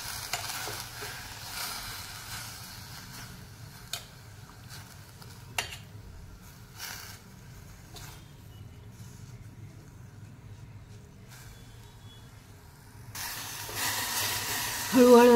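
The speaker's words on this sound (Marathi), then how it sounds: "मेथी 2 मिनिटं आपण परतून घेणार आहोत।" Fenugreek leaves (methi) tossed and sautéed in a pan, with a low, soft sizzle and occasional stirring scrapes that rise into a louder, brighter sizzle near the end.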